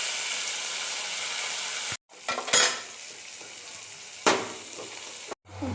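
Onion and tomato masala sizzles steadily in a hot pan for a peas and potato curry, with a spoon scraping and stirring through it, two brief pauses breaking the frying hiss and sharper clinks in between.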